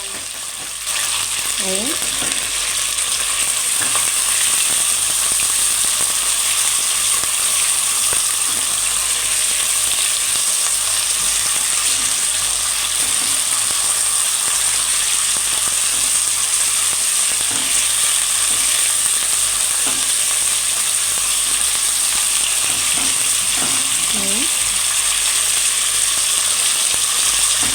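Bay leaves and cardamom pods frying in hot oil in a pot for Palestinian maqluba, a loud, steady, even sizzle that runs unbroken throughout, with a few faint metallic scrapes and a brief word from a woman.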